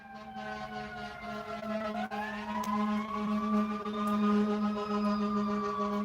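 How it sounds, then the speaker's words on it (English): Emergency sirens wail near an all-night gas station, a steady tone sliding upward and holding, loud and continuous over low traffic rumble. "You hear that from the all-night gas station? Sirens, all type of stuff."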